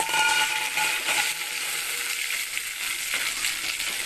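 Kanthari chillies sautéing in hot oil in a pan, a loud, dense, continuous sizzle close by with faint stirring scrapes underneath.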